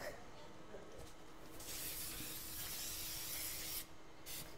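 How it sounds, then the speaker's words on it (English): Cooking spray hisses from a can onto a cake pan held over a sink, a close continuous aerosol spray lasting a few seconds. "You could spray the pan"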